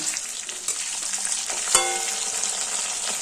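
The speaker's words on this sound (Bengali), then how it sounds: "মাছগুলোকে আমি আস্তে আস্তে উল্টিয়ে দিচ্ছি" Katla fish pieces frying in hot oil as they are flipped, a steady close sizzle with a soft scrape and clink of the turner partway through.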